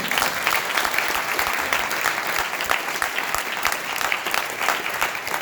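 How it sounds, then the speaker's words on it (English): A crowd claps in dense, sustained applause, loud and continuous without pause for several seconds. "Big round of applause for his"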